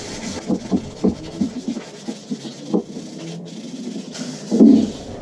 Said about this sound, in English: so I'm gonna wet sand.